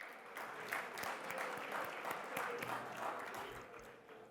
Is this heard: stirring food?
no